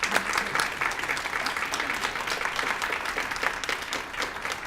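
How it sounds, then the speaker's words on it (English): An audience at a Holocaust Remembrance Day event claps steadily, a dense even patter of many hands at moderate volume, continuing throughout. "The Italians clap back"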